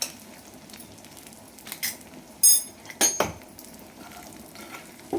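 A spoon scrapes and clinks against a pan while garam masala, spices and salt are mixed in with a light sizzle, several sharp close metallic knocks in an irregular rhythm, no talking.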